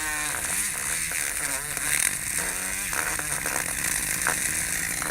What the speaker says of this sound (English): my grinder is very capable